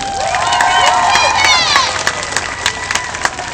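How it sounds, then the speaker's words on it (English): A lively crowd at an elementary school event cheers and shouts loudly, with scattered claps and whoops that thin out toward the end. "Give him a round of applause, Kevin."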